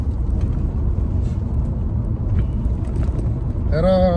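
A car driven along the road, a low steady engine rumble and road noise throughout, with a person talking over it and a brief tonal chirp near the end.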